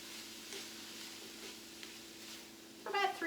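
Tofu sizzling as it fries in a pan, giving a steady, soft hiss of frying that continues throughout, with a brief clatter near the end.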